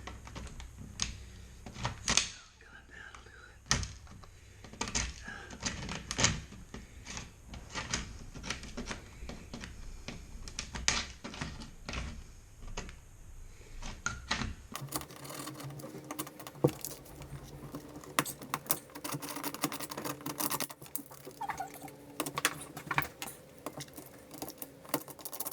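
A 1-inch hand scraper works over melted plastic on a drain fitting in a run of quick, uneven scratching strokes up close, then grows denser and steadier toward the end.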